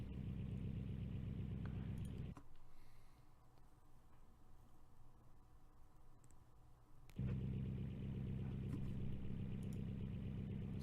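A car engine in BeamNG.drive idles with a loud, lumpy rumble, drops to a quieter drone for several seconds, then returns to the heavy pulsing idle.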